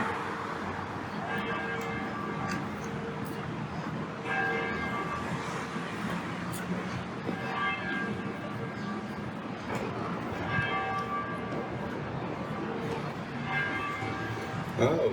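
Courthouse bells in Warren, Ohio ring out at eleven in the morning, a steady run of repeated tolls heard outdoors over a constant wash of street and traffic noise.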